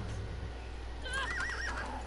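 A horse in the video game Far Cry 6 whinnies loudly partway through, a wavering high neigh over a low steady rumble of background noise.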